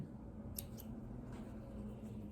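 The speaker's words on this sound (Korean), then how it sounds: "가위로 쪽가위 같은 걸로 잘라주면 이게 터질 염려가 없죠" Small thread snips cut through thread on a tailored jacket, giving two quick, faint clicks close together over a steady room hiss.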